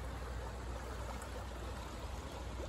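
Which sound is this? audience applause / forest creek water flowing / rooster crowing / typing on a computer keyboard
forest creek water flowing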